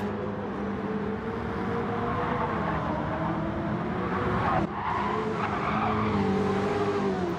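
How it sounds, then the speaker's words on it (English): Race car in a racing video game braking hard into a chicane, tires skidding and squealing over a loud, steady engine roar that briefly dips mid-way before resuming. "Slamming his brakes on."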